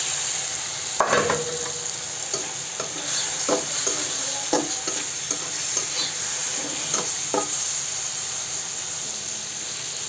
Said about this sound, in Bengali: তারপরে চিংড়ি মাছগুলো আমি ঢেলে দিলাম।